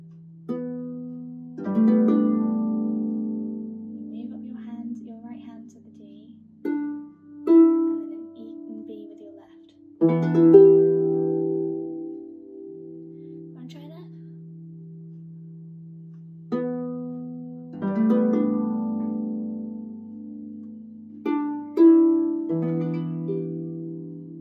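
Manx harp playing the tune Graih Foalsey, a two-handed chord pattern of soft plucked chords that ring and fade in a slow, spaced rhythm, close and quiet with no speech.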